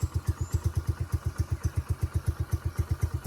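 A motorcycle engine idles with a steady, even thumping pulse, close and loud, on a rough, bad road; no one speaks.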